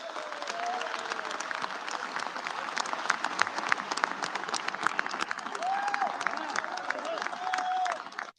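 Sustained applause fills the US House chamber, a dense crowd clapping steadily for several seconds, with a few faint voices mixed in before it cuts off.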